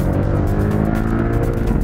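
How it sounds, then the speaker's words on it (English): A 2018 Porsche 718 Cayman GTS turbocharged four-cylinder engine with larger turbo and different intakes, running loud and steady, a close, continuous throaty drone with no pauses. "its Turbo 4 engine doesn't have that distinctive sound that the outgoing six-cylinder had"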